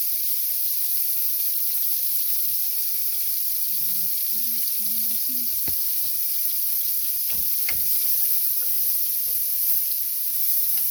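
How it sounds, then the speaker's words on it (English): Thinly diced onions and a diced jalapeno frying in a pan, a constant close hiss of sizzling oil broken by a few soft stirring scrapes and light knocks. "the next thing I'm going to do is add in some onions that I've diced really, really thin"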